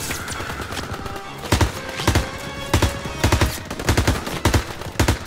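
Machine gun fire in the Call of Duty WWII video game, loud sharp bursts of rapid shots in several clusters with brief pauses between them.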